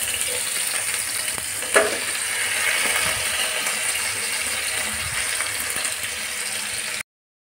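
Raw banana pieces tipped into hot oil with bloomed cumin in a nonstick pan, giving a steady loud sizzle and frying hiss for several seconds, with a brief clatter of the pieces landing early on.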